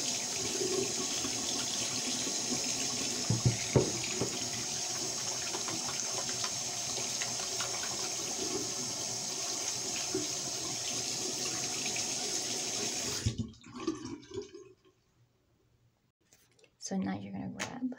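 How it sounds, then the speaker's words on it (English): A tap runs steadily into a sink while hands are washed, a close, even rush of water that cuts off abruptly near the end and leaves a short quiet before faint handling noises. "Very important, you're gonna be washing your hands"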